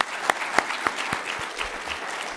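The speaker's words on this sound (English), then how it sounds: "make sure we got one round of applause for y'all" A round of applause for student officers at the opening plenary of a research symposium, with a few sharp claps over a thin, steady patter. It stays fairly faint and eases off toward the end.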